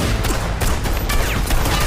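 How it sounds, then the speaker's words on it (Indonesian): Rapid bursts of gunfire crackle in a dense, chaotic volley, loud and close, like a movie shootout. "terjadilah aksi tembak-tembakan antara Kumar dan ketiga perampok tersebut"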